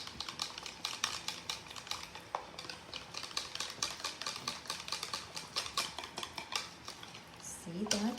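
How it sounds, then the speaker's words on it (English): Mustard and honey are whisked into a salad dressing in a bowl, giving a fast, rhythmic clinking of metal on the bowl that carries on steadily before a voice starts talking at the end. "Just whisk it together"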